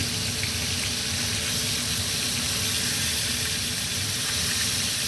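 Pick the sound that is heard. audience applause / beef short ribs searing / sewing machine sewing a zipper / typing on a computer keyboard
beef short ribs searing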